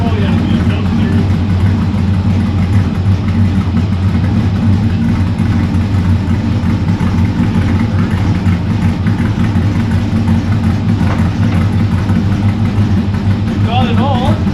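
A 1957 Chevy engine idles steadily with a deep, even rumble that holds unchanged for the whole stretch, with voices present throughout.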